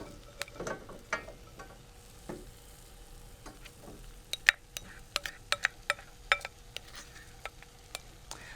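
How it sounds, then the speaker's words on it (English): Beef and broccoli with saved cooking liquid sizzling in a pan, a soft steady hiss broken by scattered sharp ticks and clacks of stirring, growing busier toward the end, close and fairly quiet. "I'm going to keep stirring all of that together for about a minute to let the broccoli heat back up."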